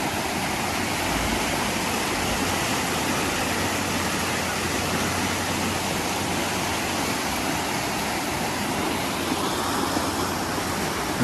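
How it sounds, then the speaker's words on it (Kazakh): Water rushes steadily through a stream along a park walking path in Almaty, a dense, unbroken roar that stays loud and close from start to finish with no voices. "Тек қана судың дауысы."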